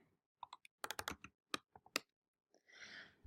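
Typing on a computer keyboard to enter an address, close and quiet: irregular bursts of crisp key clicks, a brief pause, then a softer rustling stretch at the end.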